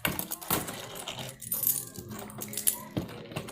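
Saved coins being poured out and counted, with clinking and jingling spills of metal coins in several bursts, close by and fairly quiet.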